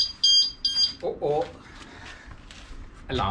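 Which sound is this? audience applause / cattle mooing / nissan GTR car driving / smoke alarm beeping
smoke alarm beeping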